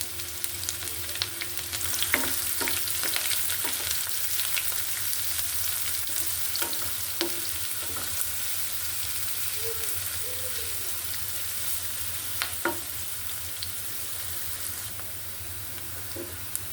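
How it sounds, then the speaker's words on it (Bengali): Chopped onion and green chilies fry in a pan with chopped garlic, giving a steady, close, even sizzle throughout with a few soft clinks of a spatula and no talking. "পেঁয়াজটা আমার ভাজা হয়ে গেছে"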